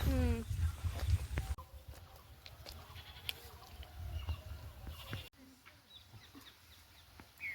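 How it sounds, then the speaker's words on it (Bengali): A goat bleats briefly near the start, outdoors among chirping birds, followed by quieter rustling and distant background activity. "ওদিকে দেখি ছাগল বাঁধা নাকি"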